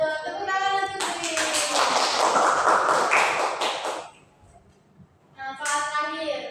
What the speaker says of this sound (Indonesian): Betul, tepuk tangan untuk Dwi.